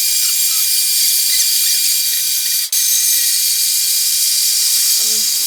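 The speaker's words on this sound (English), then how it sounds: "I'm going to be cutting this out on the bandsaw" A bandsaw cuts metal motorcycle floorboard mount pieces for a Dyna, giving a loud, steady high-pitched grinding whine that dips for a moment midway and then winds down near the end.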